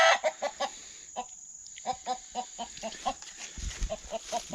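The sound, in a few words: chickens (hens) clucking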